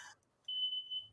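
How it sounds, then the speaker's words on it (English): A fire alarm gives one steady high electronic beep, a short tone of about half a second, fairly faint in a quiet room. "Gotta go again. That's my fire alarm."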